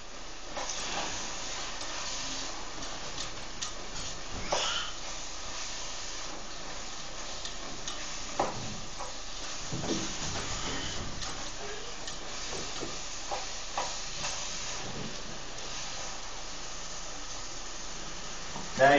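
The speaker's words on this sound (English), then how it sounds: "Now as you hear, it's actually starting to boil." Food in a pot on the stove starting to boil, giving a steady hissing, sizzling bubble with scattered ticks and pops, close and continuous throughout.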